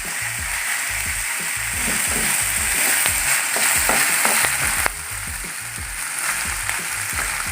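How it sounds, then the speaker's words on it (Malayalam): Sliced onions fry in a pan under a steady sizzle while a utensil stirs them, making repeated low rhythmic scraping knocks close by. "ഇടയ്ക്കൊന്ന് ഇളക്കി കൊടുക്കാം അത് സവാളയുടെ ഒന്ന് കളർ മാറാൻ വേണ്ടിയിട്ട് ഒന്ന് ഇളക്കി കൊടുക്കാം"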